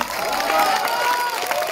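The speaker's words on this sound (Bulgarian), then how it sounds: "Благодаря за аплодисментите" Audience applause at a concert of a Bulgarian singer's band, a dense, steady wash of clapping from a crowd, close and fairly loud, with no pause through the short stretch.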